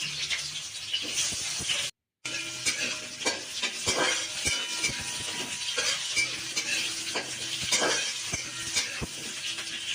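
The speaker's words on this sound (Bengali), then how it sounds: "কড়াইতে তেল গরম করে আমি কুমড়োগুলো ভাজতে দিয়ে দিলাম" Pumpkin pieces frying in hot oil in a wok, a continuous close sizzle with scattered spatula scrapes and clinks, no talking.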